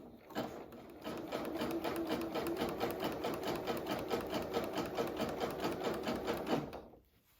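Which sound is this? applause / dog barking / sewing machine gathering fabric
sewing machine gathering fabric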